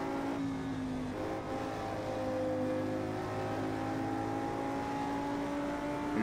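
An Audi R8 road car engine in Project CARS 2 at Bathurst drones steadily, its pitch easing and then climbing as the throttle lifts and comes back on, a continuous moderate whine with no talking.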